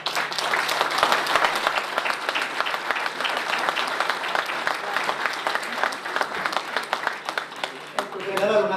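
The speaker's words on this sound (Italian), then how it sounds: "per dare un applauso bisogna citare il governatore" Audience applause at a presentation of new NCD party circles, loud and continuous with crisp individual claps, a voice briefly cutting in at the very end.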